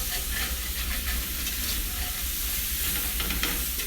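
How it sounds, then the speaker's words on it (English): Gravy being whisked in a pan while the bottom is scraped, a dense continuous bubbling sizzle with a brisk scratchy whisking texture throughout. "Now I'm going to whisk it as I put it in, and I'm going to pull up the stuff from the bottom"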